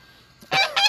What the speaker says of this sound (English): So there are geese.